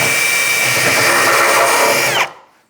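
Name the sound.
step drill bit drilling a 3/4 inch hole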